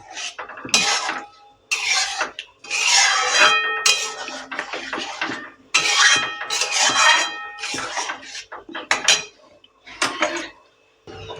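Egg and spinach curry with ghee and garam masala being stirred in a pan: repeated scraping and clinking bursts of a utensil against metal, fairly close and loud, coming in uneven strokes with short pauses between.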